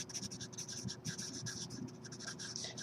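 Marker or pen scratching steadily across a board or tablet while a math lesson on factoring trinomials is written out, a continuous run of short scraping strokes under a low background hum.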